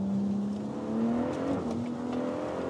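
A BMW M140i accelerates hard on a rain-soaked race track during a track day with stability control off, a loud rising engine note that steps up through a gear change over steady road and spray noise.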